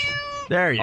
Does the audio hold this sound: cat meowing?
yes